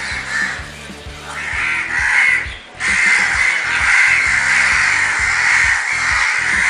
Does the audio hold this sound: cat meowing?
no